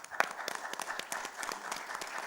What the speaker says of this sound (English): I believe they deserve an applause for that.